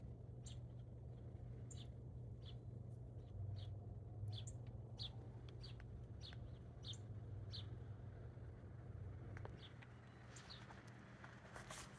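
A small bird repeats short, sharp chirping calls at irregular intervals over a low steady hum, faint and somewhat distant, with no one speaking.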